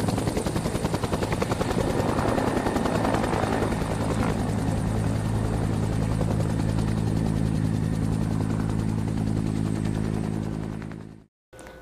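A UH-1N Huey military helicopter flies close by, its heavy rotor thumping in a steady, loud throb with a dense engine whine, holding strong throughout before cutting off abruptly at the end.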